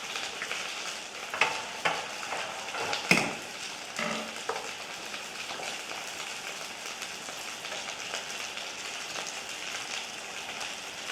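Dumplings fry in a pan with a constant dense crackling sizzle up close, punctuated by a few louder pops and clacks as they are moved about.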